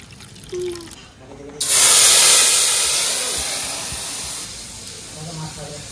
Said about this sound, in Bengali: ফোড়নে দিয়ে দেবো তেজপাতা, জিরা, শুকনো লঙ্কা